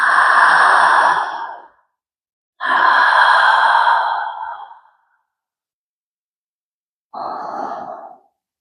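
Three deep, audible breaths, long and airy, are taken close up during a seated desk yoga twist, each separated by silence, with the last one shorter and softer.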